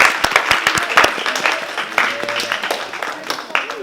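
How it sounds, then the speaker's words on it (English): Audience applause for a presenter named Susan at the close of a talk, with scattered sharp claps at the start and crowd noise mixed with overlapping voices throughout. "Let's give Susan another round of applause."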